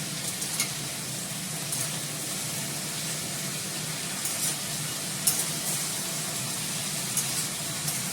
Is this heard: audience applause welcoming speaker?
no